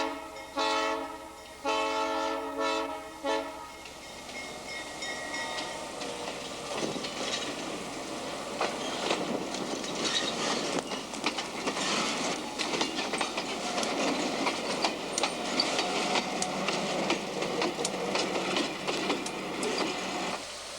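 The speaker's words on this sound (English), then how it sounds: "Here comes the work train" A work train rumbles steadily past on railway tracks near Carona, loud and close, with a horn-like tonal blast at the start, then a continuous clattering, grinding wash of wheels and cars rolling by for the rest.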